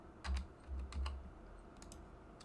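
Keys on a computer keyboard are tapped in a few quick bursts while a search term is entered in Blender, with close, crisp clicks and short pauses and no talking.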